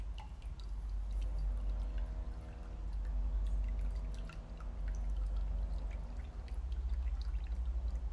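Rose sherbet liquid being strained, a steady pouring trickle with occasional drips over a low background hum, continuous and fairly close.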